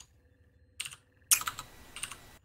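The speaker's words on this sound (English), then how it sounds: "I'm typing up a quick example." Typing on a computer keyboard: two short, close bursts of crisp key clicks, the second louder and longer, separated by near silence.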